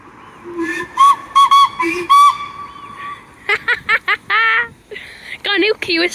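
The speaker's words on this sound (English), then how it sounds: "Whistle." A steam locomotive whistle at Porthmadog Harbour station in Gwynedd sounds in several short, bright blasts and then a longer one, followed by voices.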